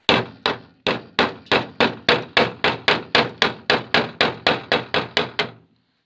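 Steady, rapid hammer blows on a rusty Austin inner sill, around twenty sharp clanging strikes in an even rhythm, close and loud, then stopping.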